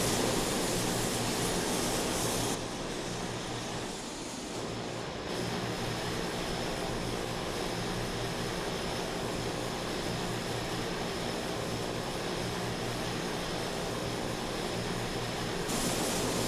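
A steady, loud drone of an A-29B propeller aircraft's engine runs nearly unbroken in a flight simulator game, its tone dipping briefly near the start before holding even, with no talking heard.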